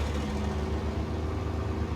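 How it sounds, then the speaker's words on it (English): A Mark 38 truck engine idles steadily in the Snowrunner game, a continuous low rumble that holds at an even, loud level throughout with no talking. "I love the sound of this engine."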